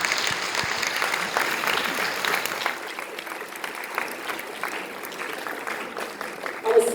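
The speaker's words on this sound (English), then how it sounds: "Ladies and gentlemen, a round of applause for Professor Silva" Sustained audience applause at an academic awards ceremony, a dense steady patter of many hands clapping that holds for several seconds, fading slightly before a louder burst near the end.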